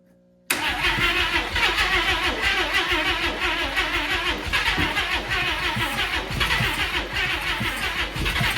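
A Chevrolet Tri Five engine fires up after sitting for 37 years, catching abruptly and then running loud and rough at a fast idle with an uneven, lumpy pulse, close by.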